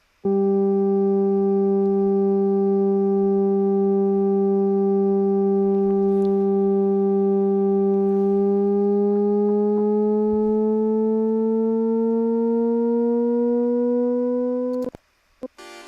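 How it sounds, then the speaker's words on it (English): A sustained buzzy synth tone holds steady, then slowly bends upward in pitch, drifting slightly off key before cutting off abruptly. "it's like a long note and it pitches up at the end."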